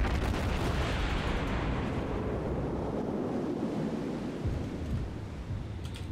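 Naval gunfire in the World of Warships video game, a loud, continuous rumbling barrage of heavy cannon blasts blending with a broad wash of wind- and sea-like noise, fading slightly toward the end.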